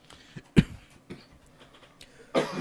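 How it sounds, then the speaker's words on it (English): A single sharp cough lands close on a podcast microphone, followed by a few softer throat noises and a breathy burst near the end, with no talk. "Or just coughing on my mic"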